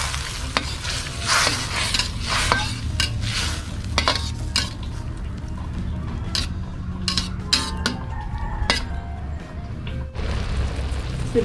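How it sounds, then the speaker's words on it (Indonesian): A utensil stirs eggs, water and salt in a cooking pan over a soft sizzle, with repeated scraping and light clinks of metal against the pan at close range. "Kita tambahkan garam. Kita aduk kembali."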